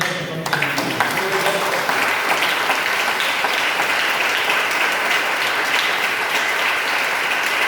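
A church congregation at a fasting and prayer service claps together, a steady, dense round of applause that holds at an even level throughout, with no speech over it.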